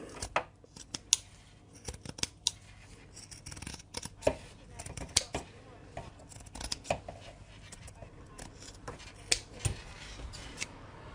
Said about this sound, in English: I'm just going to trim it back to the actual pocket